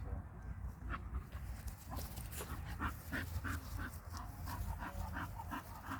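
Faint dog sounds, panting and a few soft whimpers, rise over quiet outdoor background noise as a bull terrier plays with another dog among about eight dogs.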